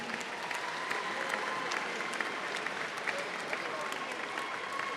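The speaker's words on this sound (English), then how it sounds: "You may now applaud for your Bowie volunteers." Audience applause for Bowie school volunteers at a National Signing Day ceremony, a steady, dense clapping from a crowd that fills the whole stretch at moderate distance.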